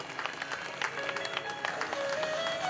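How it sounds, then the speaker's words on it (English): An audience at a ceremony applauds in a steady wash of clapping that swells slightly, with faint murmuring voices and a thin tone beneath, moderately distant in a large hall. "put your hands together and give them a round of applause"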